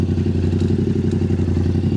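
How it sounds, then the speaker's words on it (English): Yamaha R7 sport motorcycle fitted with an aftermarket SC Project full exhaust, idling loud and close with a steady, throbbing low-pitched pulse and no voices. "this is a full exhaust. It says SC project on it."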